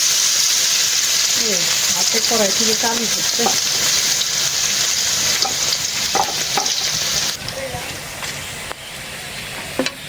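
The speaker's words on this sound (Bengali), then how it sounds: "রসুনটা একটু ভাইজা নিলাম, অনেক সুন্দর একটা বাসনা বের হয়েছে।" Garlic frying in hot oil in a wok with dried red chillies and bay leaves, a loud continuous sizzle with stirring clinks, while a person speaks briefly over it near the start.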